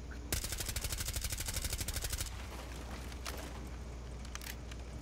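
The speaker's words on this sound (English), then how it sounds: "Should I shoot out the window?" A fast burst of automatic gunfire in Rainbow Six Siege, fired to shoot out a window: a loud, tight rapid stream of shots for about two seconds, then quieter ambience with a few faint clicks.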